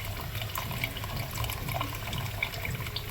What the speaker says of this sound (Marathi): सावकाश हळूहळू हे सगळं पाणी ह्याच्यात आपण ओततोय